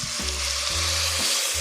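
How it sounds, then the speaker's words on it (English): Beef broth pours into a hot chili pot and sizzles at once, a loud, close, continuous hiss and bubble with a few low thumps, without speech. "Now we're going to add in our beef broth."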